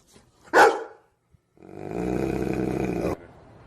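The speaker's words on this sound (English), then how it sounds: "Part basset hound, part dash hound, yeah." Basset hound and dachshund mix dog gives one sharp bark, then after a pause lets out a longer, rough growling bark-howl lasting over a second, close by with no talking.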